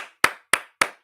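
Three sharp hand claps at an even pace, close and loud, each with a short decay into silence. No voices.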